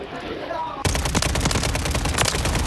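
Rapid SMG fire in Call of Duty: Modern Warfare III (WSP 9): after a brief quieter moment, a loud, sustained burst of close automatic shots runs to the end, with a voice speaking at the start.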